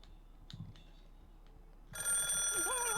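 A rotary phone in the video game The Calling starts ringing partway through with a loud, continuous electronic bell tone. It follows a few faint clicks and footsteps in a quiet room.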